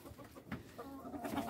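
Chickens out in the rain give a few soft, scattered clucks, faint and close, against a quiet background with no talking.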